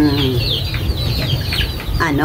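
An Asil chicken clucking close up in short repeated calls over a low background rumble, with brief voices in between.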